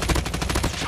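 A RUS-79U submachine gun fires in Call of Duty Mobile, a loud, close, rapid burst of closely spaced shots with no talking.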